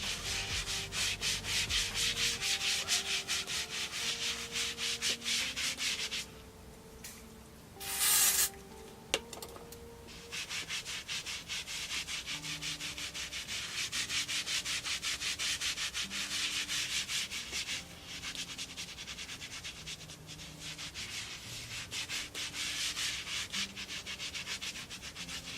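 Steady scratchy rubbing of a mitt spreading self-tanner over skin, continuous and close, with a brief spray hiss partway through and soft background music.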